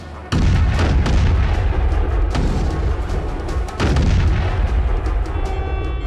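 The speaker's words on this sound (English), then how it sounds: "Commence firing." Loud artillery gunfire in a naval battle against a giant sea monster, heavy booming blasts that merge into a sustained roar, with fresh reports near the start and again midway.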